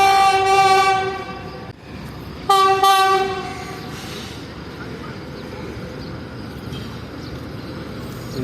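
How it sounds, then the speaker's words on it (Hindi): The Hazara Express passenger train arrives at a station, sounding two loud horn blasts close by, then a steady rumble of rolling wagons that continues to the end. "तो इसी के बिल्कुल पीछे पीछे आ रही है हमारी 11 अप हज़ारा एक्सप्रेस।"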